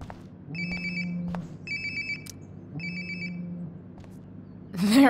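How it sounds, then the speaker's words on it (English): A phone rings in the video game Life is Strange: Before the Storm, with three clear, repeating electronic trills over a low background hum, followed by a brief rising sound at the end. "Sounds like my phone is definitely nearby."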